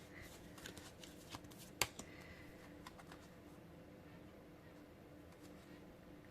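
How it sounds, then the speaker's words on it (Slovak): Tarot cards being shuffled and drawn, soft quiet papery riffling with one sharp card snap standing out, close and faint, with light rustling around it. "ja ešte vytiahnem nejaké kartičky"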